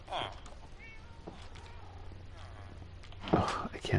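A cat meows in a Minecraft survival game on PS4, a couple of short calls amid quiet game ambience, with a player talking softly over it.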